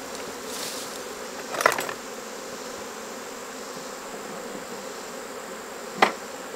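Honey bees buzz steadily around an open, very full hive, a continuous close insect drone with two brief louder swells as individual bees pass near.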